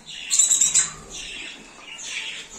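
Young birds, five to six months old, in a free-flight aviary give a quick burst of shrill squawks and chirps, followed by softer, scattered calls. The sound is fairly close and moderately loud.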